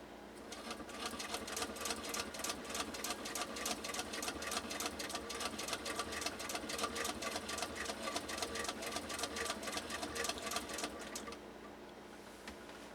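A 107-year-old antique Singer 66-1 RedEye sewing machine stitches in a fast, even, mechanical rhythm of close clicks for about eleven seconds, then stops.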